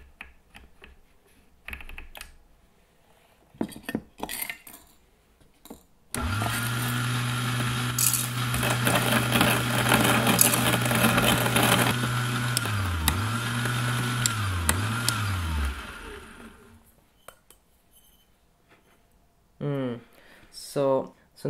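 A Kalita Next G electric coffee mill grinds coffee beans, a steady close whirring hum with a gritty crunch running about ten seconds before winding down, with talk before and after.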